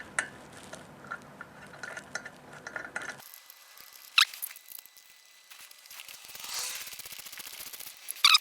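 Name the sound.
ratchet tightening torque nuts on BMW GSA rear wheel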